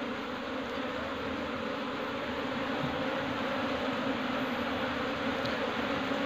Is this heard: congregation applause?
no